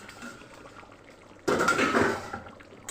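A metal lid clatters as it is lifted off a pot of egg curry, a sudden close clank and rattle after quiet kitchen ambience, then fading.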